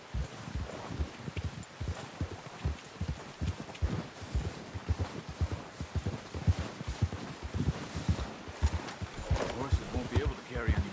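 Horses walk in Red Dead Redemption 2, their hooves clopping in a steady, uneven rhythm close by, with some rustling and voices now and then over the top.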